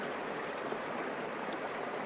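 Water flows steadily in a Norwegian winter landscape of snow and ice, a soft, continuous rushing trickle heard faintly and evenly throughout.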